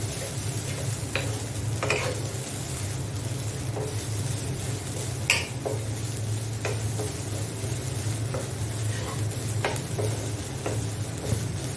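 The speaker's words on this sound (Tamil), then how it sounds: "தேங்காயை செவக்கிற அளவுக்கு நல்லா வறுத்துக்கிடணும்." Grated coconut sizzles steadily in hot oil while a utensil scrapes and stirs the pan, with occasional light clicks and taps; no voices.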